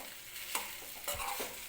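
A spoon scrapes and stirs broken-up potatoes in a kadhai while making filling for kat vada, with two soft, close scraping strokes over a faint background and no voices.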